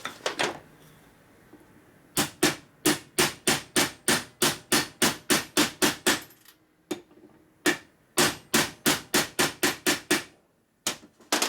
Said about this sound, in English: Now you can use a press to do this or beating with a hammer